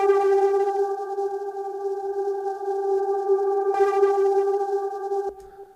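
A steady, droning electronic texture of layered sustained tones from a reversed, delayed noise layer, with a shimmering hiss above, briefly swelling midway before cutting off near the end.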